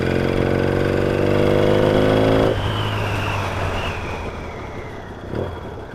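A Yamaha XS650 motorcycle with a dodgy crank and a tapping noise, its engine running loud and close, revving high and steady before the pitch drops away as it settles, with some wind rush.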